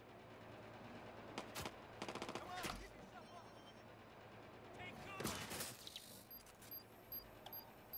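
Gunfire and grenade blasts in the video game Watch Dogs 2: sharp bursts of shots and a few heavier explosive thumps scattered irregularly over low background noise, with a voice speaking in places.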